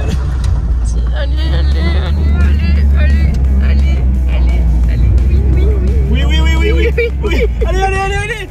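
Peugeot 406 Safari engine straining on a steep off-road climb with only one driven wheel, a loud steady low drone under excited talk from several people throughout.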